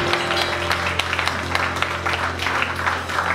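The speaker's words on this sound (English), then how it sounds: "Come on, let's clap our hands and praise God." A crowd at an evening religious miracle gathering in Dubai claps together in praise, a dense, steady wash of applause with a low rumbling hum underneath, loud and sustained throughout.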